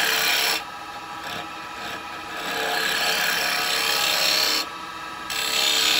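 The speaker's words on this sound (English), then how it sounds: "Do a little push cut." A carbide chisel makes a push cut on a wood bowl spinning on a lathe: a loud, steady, close rasping scrape with a high whine, briefly easing off twice before resuming.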